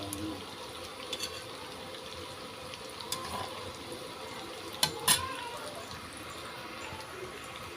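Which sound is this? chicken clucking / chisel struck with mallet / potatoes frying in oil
potatoes frying in oil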